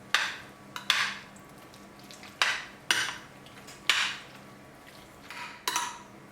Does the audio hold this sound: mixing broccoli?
yes